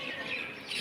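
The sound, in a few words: parrots and mynas calling near a cave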